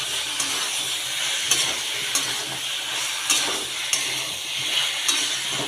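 Meat and trotters sizzle and fry in a pan, a steady close hiss with occasional sharp crackles and pops and no talking.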